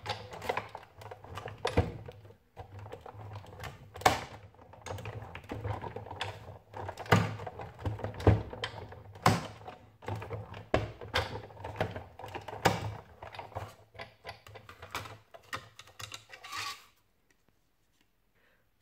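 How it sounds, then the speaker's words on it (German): A Sizzix die-cutting machine on a magnetic platform presses a die through designer paper, making steady close-up clicking, rubbing and cranking noises for over fifteen seconds before going quiet. "nehme mir mein Designerpapier und mein ausgesuchtes Stanzmotiv und stanze das einfach einmal aus"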